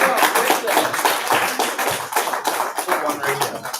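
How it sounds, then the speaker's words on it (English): Applause from a small group for the host Aisha, steady clapping and hand taps mixed with voices and chatter throughout. "Y'all give your host Aisha a round of applause."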